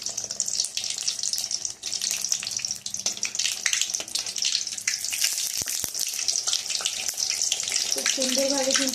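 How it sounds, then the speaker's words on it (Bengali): Crispy beguni, eggplant fritters in batter, deep-fry in hot oil, giving a loud, steady hissing sizzle with fine bubbling crackle that runs without pause. "আমি এবারে এইভাবে ভেজে নিচ্ছি"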